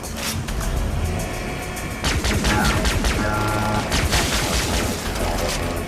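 Dense gunfire from the video game Far Cry 3 Blood Dragon, loud continuous bursts and booms over game music and sound effects, without pauses.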